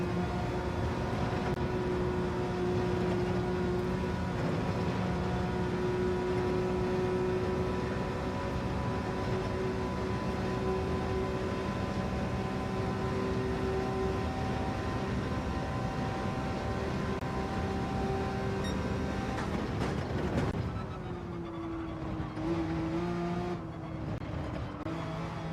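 Porsche race car in Gran Turismo 7 at Spa in the rain, engine holding a steady high drone down a long straight, then the pitch drops and shifts as it slows and brakes near the end.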